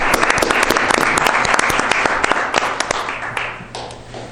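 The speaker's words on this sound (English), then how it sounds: "So I'm going to begin an applause" A few people at a city council meeting clap, a small group's sharp, distinct claps close to the microphone, thinning out toward the end.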